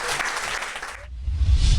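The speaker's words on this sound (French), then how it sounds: "Applaudissez bien fort le Seigneur." A church congregation applauds during a worship service, a burst of clapping that fades after about a second before a louder, rumbling swell of noise returns.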